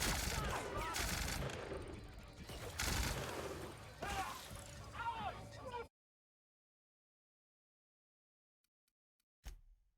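Rapid gunshots ring out from a first-person weapon in the sci-fi game The Outer Worlds, loud bursts and rattling fire over about six seconds mixed with a voice, then abrupt silence and one brief final hit.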